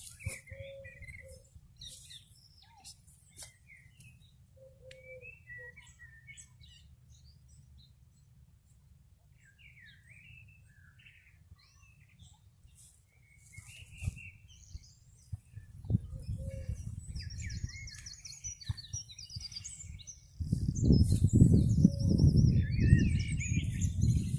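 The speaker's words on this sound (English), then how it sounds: "see if we can hear the different birds" Birds chirp and sing in varied short calls in a quiet area of the South Downs, over a low rumbling background that grows louder toward the end.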